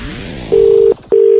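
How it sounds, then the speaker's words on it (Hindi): A telephone ringback tone sounds on a call during a prank phone call, giving two loud, steady electronic beeps of equal pitch separated by a short gap, clear and close with no voices. "भाई शुभम ने फोन किया"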